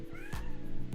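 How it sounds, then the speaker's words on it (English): A cat in a video game meows once up close, a short drawn-out caterwaul-like call on its own, with no talk. "Is that a kitty?"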